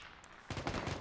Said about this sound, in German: Von rechts drauf geschossen jetzt.